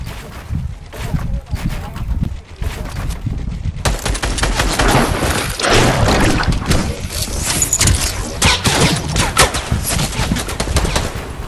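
Gunfire in the Fortnite video game, loud rapid bursts of shots over dense continuous game sound.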